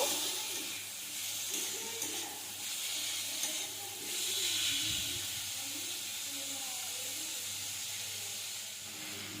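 Steady sizzling hiss of vegetables frying in a pan, continuous and fairly even, with faint stirring and muffled movement underneath.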